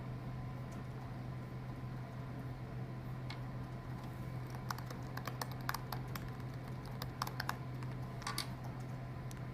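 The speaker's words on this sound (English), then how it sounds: "So let's go ahead and type that out here." Computer keyboard typing, a run of light quick key clicks in irregular bursts over a steady low electrical hum, close but quiet, with no talking.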